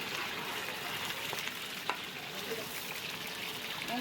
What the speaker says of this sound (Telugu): మసాలా ఫ్రై చేసుకున్నాను ఫస్ట్